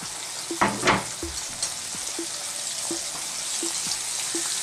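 Pieces of pork tenderloin fry in hot oil for sweet and sour pork, a constant close sizzle broken by a few louder spattering bursts as the meat is dropped in and stirred, with light clicks of a utensil against the pan.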